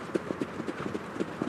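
Racehorse hooves clip-clopping at a Caen trotting race, a steady rhythmic run of roughly ten distinct beats over a soft background murmur.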